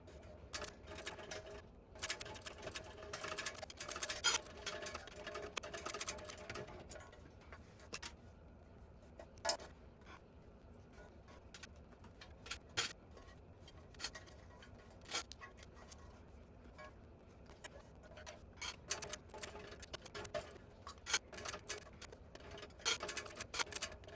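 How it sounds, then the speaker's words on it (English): A sewing machine top stitches the edge of a tote bag at a long stitch length, with soft, intermittent runs of rapid ticking stitches broken by pauses and handling sounds, close and fairly quiet. "I'm going to just top stitch, so 5 stitch length, and I'm just going to do this edge"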